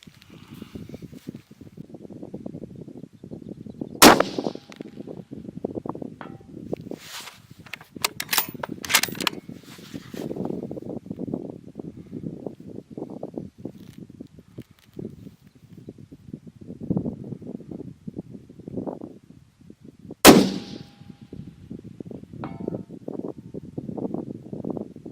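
Two sharp rifle shots ring out at long range on an outdoor range, each followed by a faint delayed clang from an 18 by 24 inch AR500 steel target about 1,000 yards away, with wind and rustling in between.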